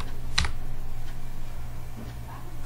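Keystrokes on a computer keyboard while typing in MS Word: a few sharp, near clicks, one prominent early press then fainter taps, over a low steady hum with no talking.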